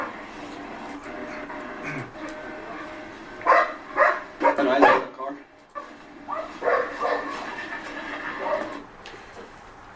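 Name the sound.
dogs barking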